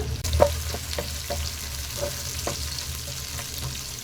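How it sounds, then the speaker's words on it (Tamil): Onions and garlic fry in a pan for a kara chutney, a constant soft sizzle close by, broken by a few light ticks and stirring taps. "இப்போ வெங்காயம் லைட்டாக வதங்கும் போதே ரெண்டே ரெண்டு பல் பூண்டு போட்டுக்கலாம்"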